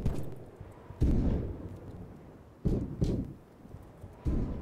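Friendly gunfire in a Western cowboy video game: several heavy, booming shots, some fired in quick pairs, each followed by a fading rumble, with no voices.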